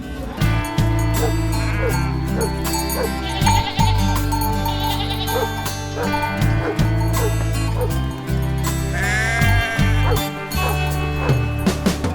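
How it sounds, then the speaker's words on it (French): Sheep bleat repeatedly in New Zealand, several animals calling close by in overlapping, wavering cries, with a dog-like yip or bark mixed in among the flock. "En Nouvelle-Zélande, le mouton est roi, avec environ 3 moutons par habitant"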